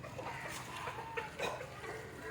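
A country chicken clucks on a farm, with short scattered calls over steady, fairly quiet outdoor background noise.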